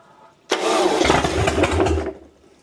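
A rebuilt 470 motor fires on the first kick and keeps running, a loud, close, steady engine roar that cuts in sharply and holds for about a second and a half before dropping away.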